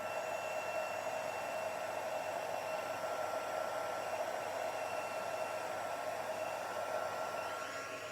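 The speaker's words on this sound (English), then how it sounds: "So when you're heat embossing, you really need to make sure that each one is shiny." A heat embossing tool blows hot air in a continuous, even hiss with a steady high whine, close and moderately loud, with no talking over it.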